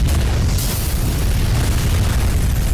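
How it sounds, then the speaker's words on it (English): A grenade detonating in the video game Bloodrayne 2, a loud, heavy boom with a deep rumbling low end that flares sharply about half a second in and then sustains as a dense, roaring blast for the rest of the moment. "That was a grenade."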